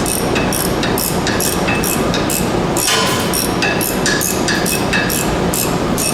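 A wrench works a nut on a Pontiac G8 front sway bar link, the nut spinning, giving rapid repeated metallic clicks and clatter over loud, steady, close mechanical noise.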